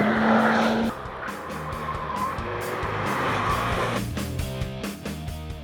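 A Porsche 911 Turbo S, the heavy all-wheel-drive model, at speed on the NCM Motorsports Park race track: a loud, steady engine roar with tire squeal and shifting pitch, close and continuous throughout.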